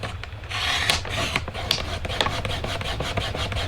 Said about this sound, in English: if your trimmer won't cut through that much cardstock